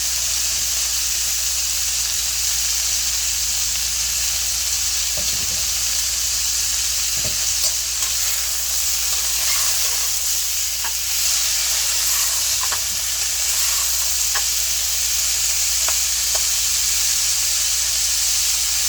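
Broccoli stir-frying with turmeric in a hot pan, a loud continuous sizzle and hiss with occasional spatula taps and scrapes, close and steady throughout.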